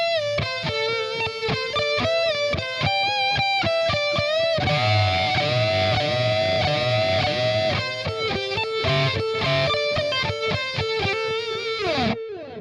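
Distorted electric guitar plays the closing phrase of a song: loud, continuous, heavily overdriven riffing with steady picked rhythm and a sustained bent-note passage in the middle, alone with no voices.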